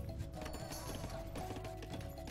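Cavalry horses in Age of Empires clop along in quick, steady hoofbeats at a moderate distance, with faint voices mixed underneath.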